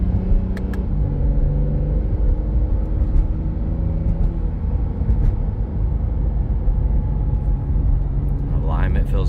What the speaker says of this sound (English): I got it in Sport Plus, using the paddle shifters.